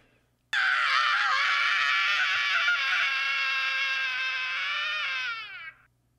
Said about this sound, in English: We need a 12-second scream.